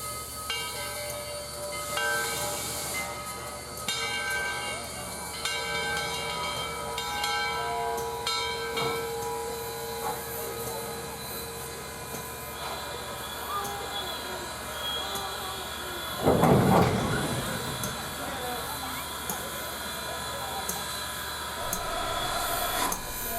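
Southern Railway steam locomotives 4501, built 1911, and 630, built 1904, running doubleheader on a local line give a steady mechanical rumble and hiss, with a sharp louder burst of steam partway through.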